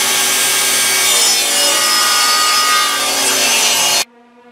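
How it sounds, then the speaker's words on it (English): Wood board having its edges ripped down with a saw for a CNC-engraved kitchen table: a loud, steady cutting drone with a dense rasp for about four seconds, then it cuts off abruptly and a lower humming tone carries on. "We're just going to take and we're going to rip down our edges."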